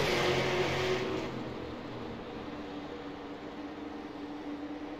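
Race cars at the USA Super 50 accelerating hard on a restart behind a pulled-off pace car; a loud, close engine roar opens the moment, then eases into a steady, more distant drone of the pack.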